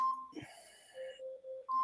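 A kitchen timer alarm beeping, a short steady high electronic tone that cuts off and then returns after a brief mix of other tones and a soft voice-like sound.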